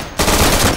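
A sudden loud burst of rapid gunfire erupts in the World War II shooter Day of Infamy, a dense, close volley lasting under a second.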